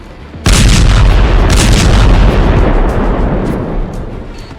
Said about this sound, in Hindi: पुतिन की विस्फोटक मिसाइल की मार है ये।